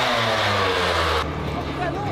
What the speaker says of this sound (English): still playing with that damn motorcycle